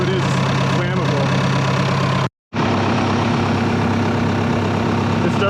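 A broken excavator engine runs steadily with a dense, rumbling drone from a holed, leaking exhaust, loud and close, cutting out briefly for a moment of silence before resuming.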